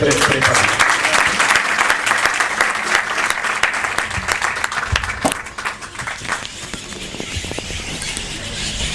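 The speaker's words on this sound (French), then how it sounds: "Je pense que les applaudissements sont très faciles." A crowd at an evening book event applauds steadily and fairly loudly for several seconds, dense clapping that briefly dips midway and then swells again, with some voices underneath.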